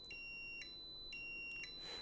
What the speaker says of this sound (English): So it has an 80 decibel audible alarm.